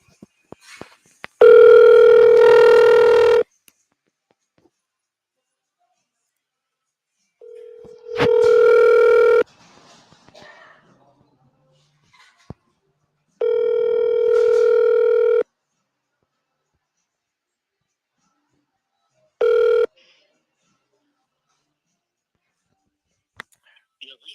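An outgoing phone call: a handset rings out in four long electronic tones, each a couple of seconds, separated by silent gaps, heard clearly and close with no talking.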